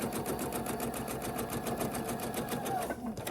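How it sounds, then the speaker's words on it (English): A sewing machine stitches fabric pieces together for a quilt section, a steady close rapid mechanical chatter running throughout and slowing at the very end. "now we're going to sew these together"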